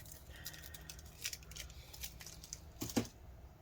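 Scissors cut adhesive tape during a repair of an Acer Chromebook 13 charge port, a series of quiet, close snips and crinkles over a low background, ending with a firmer final cut.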